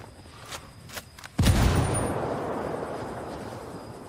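A frag grenade detonates in a shooter game, a sudden loud blast with a long rumbling decay, preceded by a few faint clicks and thumps.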